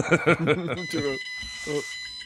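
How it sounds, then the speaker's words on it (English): A computer gives a sustained electronic beeping alert, a steady high tone running beneath people talking nearby. "Oh no, now it's beeping at me."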